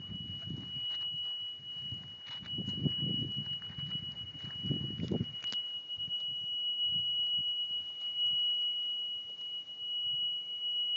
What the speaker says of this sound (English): Plus about backup alarms, but that's more than a backup alarm. That's the golf cart alarms.